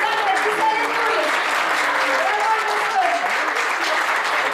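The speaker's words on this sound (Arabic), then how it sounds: "تصفيقة حارة" Warm applause from an audience at a Tunisie Telecom prize ceremony, a dense, steady wash of clapping that holds at full strength for the whole stretch, with scattered voices blended in.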